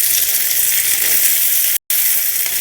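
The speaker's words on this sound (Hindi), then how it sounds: "ये देखिए चालू मिर्च, थोड़ा सा इसको फ्राई कर देते हैं" Chilies frying in hot oil in a home kitchen pan, a loud, steady close-up sizzle that cuts out for a split second and then resumes.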